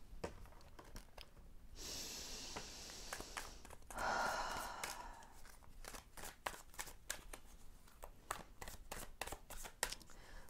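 Tarot cards are shuffled in a quiet room, giving soft riffling bursts and scattered crisp flicks and taps, with a couple of longer swishing shuffles near the start and middle, faint and close, with no talk.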